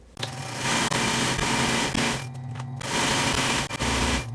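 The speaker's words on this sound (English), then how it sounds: "we're gonna sew these two panels together down that line" A sewing machine stitches two fabric panels together in close, loud, continuous whirring runs with brief pauses between them.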